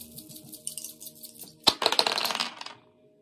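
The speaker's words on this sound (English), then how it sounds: "Okay, let's get the dice." Red and white dice shaken in a hand and rolled, a sharp clatter followed by a quick run of rattling clicks that fades out, close and alone after faint rustling.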